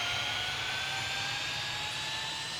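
An American Eagle regional airliner taxies in Tower Simulator 3, giving a steady jet engine whine with sustained tonal hums over a low rumble, constant and moderately loud with no talk.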